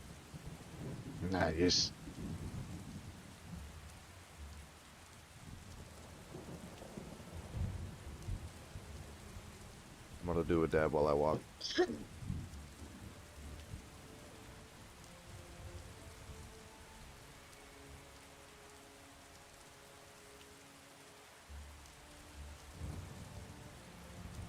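Steady rain falls in Skyrim with two loud rumbling thunderclaps rolling in early and midway, then a quieter patter of rain continues; a person speaks briefly over the storm.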